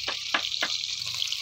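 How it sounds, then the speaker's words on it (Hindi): Fish fries in a pan at a farmhouse with a steady, loud, close hissing sizzle, broken by a few brief clinks of a utensil. "देखिए फ्रेंड मछली तलाते हुए"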